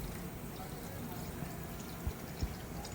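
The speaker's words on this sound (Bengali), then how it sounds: "প্রথম পাত্রে আমি নিয়ে নিচ্ছি জল" Water pours steadily into a cooking pot in one continuous wash, with a couple of soft knocks near the end.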